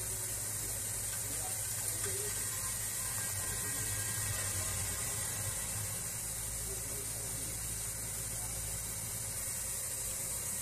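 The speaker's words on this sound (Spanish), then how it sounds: "Ahí tenemos el calentador regulando" Water flows steadily through a gas water heater as its flow regulator modulates, giving a continuous broad hiss with a low hum underneath that holds level throughout.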